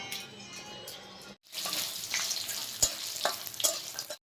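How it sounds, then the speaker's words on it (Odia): Onion frying in hot oil in a pan, a continuous crackling sizzle with clattering stirs and scrapes, briefly cutting out twice, fairly close and steady with no talk. "ପିଆଜ ଏବେ ଦିଆ ହେଇଯାଇଛି ସେଟା ଭଜା ହେଉଛି ଏବେ"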